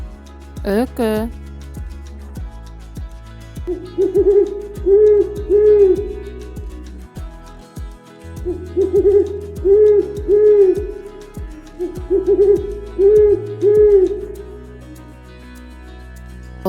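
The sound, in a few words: owl hooting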